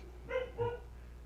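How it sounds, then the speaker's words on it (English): A dog barks twice in quick succession, close by and fairly loud, over a low steady indoor hum with no talking. "Apparently my dog likes the draft class too"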